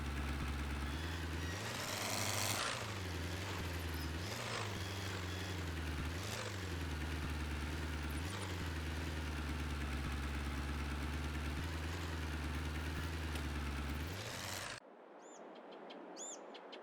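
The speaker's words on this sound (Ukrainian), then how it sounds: "інший трактор вже проводить культивацію" A tractor engine in Farming Simulator 22 runs at a steady low drone with rhythmic surges, loud and continuous, then cuts off abruptly near the end, leaving faint quiet sounds.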